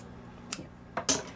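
Scissors snip through a 30 by 3 centimetre fabric strip for a craft pen decoration, giving a few short, crisp cuts close by in a quiet room, with no talking.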